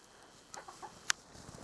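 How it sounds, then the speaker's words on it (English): A few chickens cluck faintly and sporadically nearby, with short soft calls and one sharp brief click in an otherwise quiet setting. "These are chickens"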